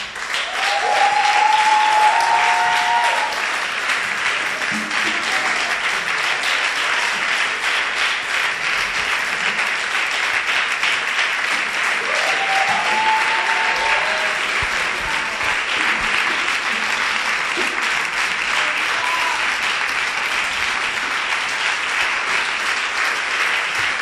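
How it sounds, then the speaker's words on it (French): Women of a church congregation at a Sunday morning service applauding and cheering, sustained loud clapping from a large crowd with scattered shouts and ululating cries of acclaim over it, steady for the whole stretch. "Est-ce que les femmes de cette assemblée peuvent acclamer le Seigneur ce matin?"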